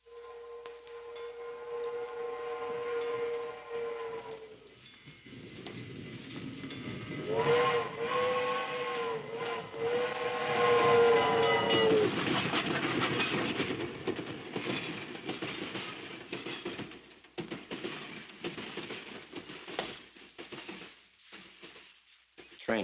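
Steam train passing, with a long steam whistle blowing twice over a steady rumbling, hissing roar of the locomotive and cars that swells and then fades; no talk alongside.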